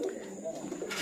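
A pair of pigeons, an Andalusian male with a female, coos softly at close range, with low murmuring calls running through a short stretch.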